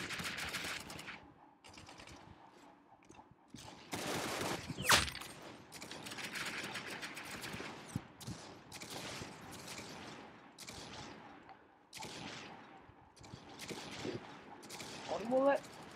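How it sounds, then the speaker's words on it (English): Shotgun blasts in the video game Arsenal, sharp reports scattered across the stretch with one loud burst near the middle, mixed with rapid clattering gunfire and mechanical clicks, fairly quiet overall. "How am I missing with a shotgun?"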